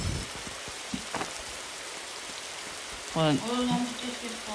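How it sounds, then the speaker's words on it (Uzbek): Steady rain patters on a surface with a few brief knocks, and a short voice-like call rises near the end over the continuous hiss. "Yomg'ir yog'ayapti-ku."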